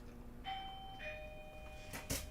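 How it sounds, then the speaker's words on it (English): A soft two-note electronic doorbell chime rings, followed by a brief rustling burst. "Even better, doorbell."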